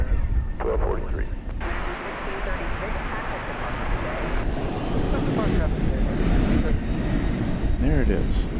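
Airliner at Dallas/Fort Worth International Airport coming in short of runway 18 Left, a steady broadband engine roar that holds loud throughout with a faint rising whine near the end.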